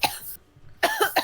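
A person coughs in a few short, harsh bursts close by, with a brief pause between the first hack and the quick follow-up coughs.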